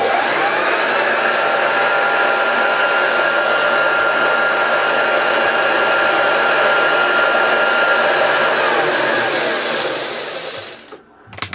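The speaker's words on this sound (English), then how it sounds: "This machine and all of the dirty fan uprights work better if they can suck the carpet up." A refurbished vintage Hoover Junior U1436a dirty-fan upright vacuum cleaner runs with a loud, steady motor whine for about ten seconds before winding down and cutting off.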